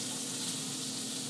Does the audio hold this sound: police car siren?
no